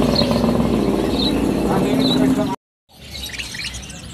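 Caged songbirds chirp in repeated short calls at a bird shop kiosk stocking species such as straw-headed bulbuls, against steady engine-like background noise, with a brief silent gap before the chatter resumes.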